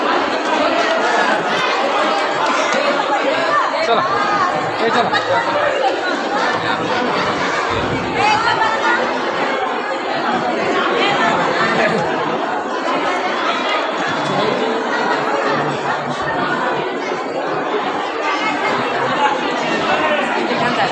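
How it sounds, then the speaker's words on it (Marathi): A dense crowd chatters continuously at the Jagadguru Tukaram Maharaj Gatha temple in Pune, with overlapping voices and occasional laughter, close and steady throughout. "मुलांनी बघा गर्दी आहे खूपच आज बघा."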